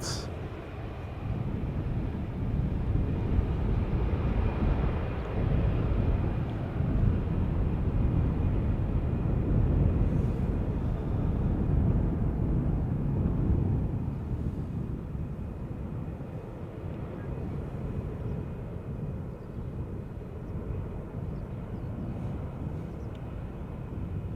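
A Lockheed C-5 Galaxy at Schiphol Airport, a broad, low jet rumble rolling on steadily at a distance, with a faint thin whine above and wind buffeting the microphone, easing slightly toward the end.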